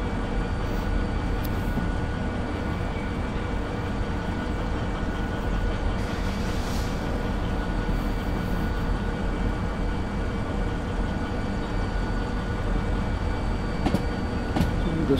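A freight train rumbles steadily along the track in the Derail Valley simulator, a long train carrying steel rails, with a continuous heavy low drone and faint clanks, and no talking.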